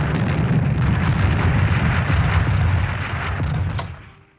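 Heavy bombing explosions from the Strategic Command WWII war game, a dense continuous rumble of overlapping blasts and crackling debris that stays loud for several seconds before fading out at the end, with no talking.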